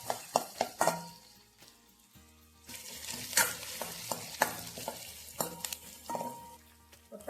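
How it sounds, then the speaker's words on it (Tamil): About 150 grams of peeled small onions sautéing in a pan, sizzling under frequent spoon stirs and clanks against the metal, close and moderately loud. "இது கொஞ்சம் வதங்கட்டும் வெங்காயம்."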